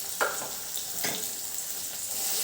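Chopped capsicum and the white part of spring onion sautéing in a pan for a moong dal and green onion dish, a steady close hiss with a few soft stirring scrapes and no talking.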